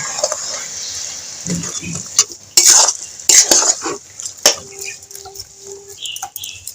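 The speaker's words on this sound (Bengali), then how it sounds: "গ্যাসটা জ্বালিয়ে নিয়েছি কড়াইটা বসিয়ে দিয়েছি এবার নারকেলের ছাইটা বানিয়ে নেব" A metal spatula scrapes and clinks against a wok as grated coconut is stirred over a gas stove, with irregular loud knocks and scrapes and quieter stretches between.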